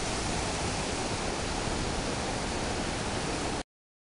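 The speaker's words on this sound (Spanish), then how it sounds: "cascada Atarraya, por fin coronamos" Steady, dense roar of rushing water from the Atarraya waterfall in Mistrató, a constant close broadband wash with no breaks, cutting off abruptly near the end.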